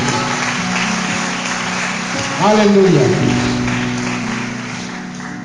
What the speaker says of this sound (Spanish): Denle un aplauso al Señor en este día.